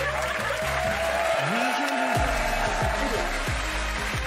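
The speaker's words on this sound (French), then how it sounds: "Franchement, on peut les applaudir" Studio audience applauding two 12-year-old mental arithmetic prodigies, a continuous crowd clapping throughout, with voices talking over it.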